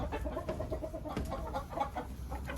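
A hen being handled by hand clucks in short repeated bursts, fairly close, with soft rustling and low background rumble.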